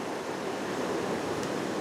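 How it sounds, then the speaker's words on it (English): Big ocean waves rolling onto a rocky seascape shore give a steady, broad wash of surf, moderately loud and continuous with wind noise mixed in and no voices. "Here's that big wave coming I was telling you about."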